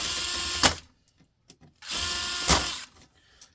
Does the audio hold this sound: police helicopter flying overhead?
no